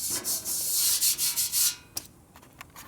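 A 1942 Harley-Davidson WLA motorcycle gas tank is sanded during metal finishing, giving a few quick rough scrubbing strokes close up that break off into light scrapes and taps.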